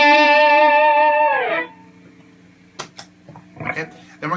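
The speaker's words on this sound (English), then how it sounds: "Alright, when you engage the pitchfork with the 5th up," Electric guitar run through an Electro-Harmonix Pitch Fork pedal set a fifth up gives a bright, buzzy held note that bends down and fades, followed by a few quieter picked notes and light handling clicks.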